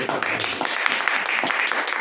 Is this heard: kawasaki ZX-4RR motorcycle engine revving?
no